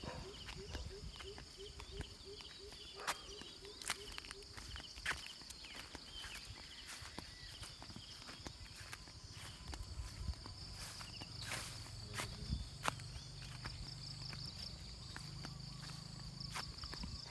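Footsteps trudging over soft, very muddy ground beside a fishing spot in the countryside, steady and close, with a constant chorus of crickets and insects behind.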